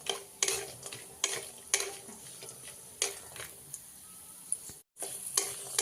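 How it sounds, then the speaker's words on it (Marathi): Cashews and almonds rattle and scrape in a dry pan as they're stirred and roasted, with soft clicks and repeated sweeping bursts, fairly close and steady. "आपलं काजू बदाम चांगलं मग असं खरपूस असं भाजून झालेलं आहे"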